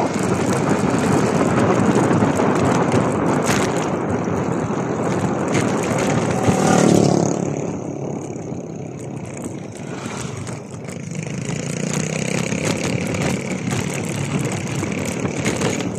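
A motorcycle engine drones continuously with rattling and wind noise, dipping briefly midway before rising again, as if riding over uneven ground.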